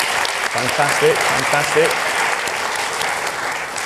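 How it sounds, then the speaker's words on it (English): An audience at an industry talk with YouTube's head of originals claps steadily and densely for several seconds, while a voice speaks briefly over the applause. "please give yourself a round of applause"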